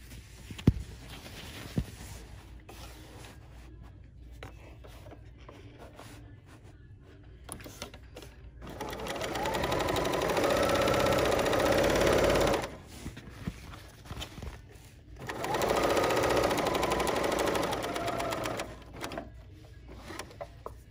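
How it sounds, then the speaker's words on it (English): A Bernina L 890 serger stitches plaid fabric in two bursts of steady, fast mechanical whirring, separated and surrounded by quieter handling clicks and knocks. "I love the needle down on this serger."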